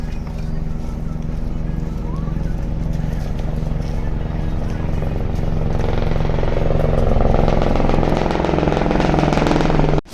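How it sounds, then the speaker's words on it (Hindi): A helicopter's rhythmic rotor thumping grows louder and more pronounced as it draws closer, over a steady rumbling background, on the mountain route from Hemkund Sahib. "ये देखो जी हेलीकॉप्टर आ रहा है।"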